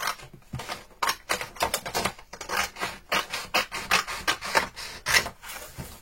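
A small blade cuts and trims a miniature dollhouse piece for a haberdashery shop model, making a quick run of close, crisp scraping and snipping strokes in an irregular rhythm with no talk.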